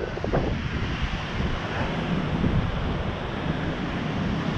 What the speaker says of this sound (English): Dangerous surf.